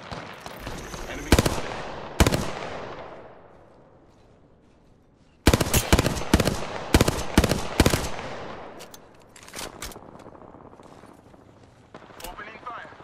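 Gunfire from Apex Legends, rapid automatic bursts and single shots cracking in clusters, loud and close, with quieter firing and game sounds between volleys.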